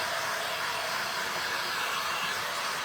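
A hair dryer blows steadily on freshly painted gold and silver paint on a decorative tray, a constant close whooshing roar with no break.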